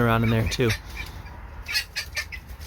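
A white hen in a cold-climate winter setting clucks in short, scattered calls after someone speaks near the start.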